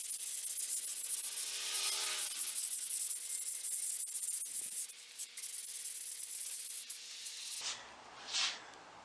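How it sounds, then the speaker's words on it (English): Fine 320 grit sandpaper rubs over the finish of a Nichols and Stone rocking chair, a close, steady hissing scrape that falters briefly, then gives way to quieter, intermittent strokes near the end. "I used 320 gold sandpaper as well as one of these flexible 320 grit sponges to get the turnings"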